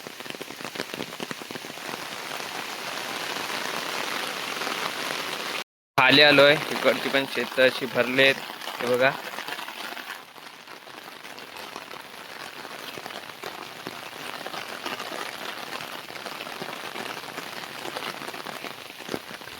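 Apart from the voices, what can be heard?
heavy monsoon rain falling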